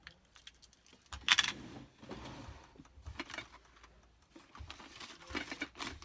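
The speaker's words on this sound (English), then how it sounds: "I'm just going to go and take the packaging off" Makeup products from a budget shop being unwrapped from their packaging, quiet close crinkling, tapping and rustling in irregular bursts with a brief sharper clatter early on, no speech.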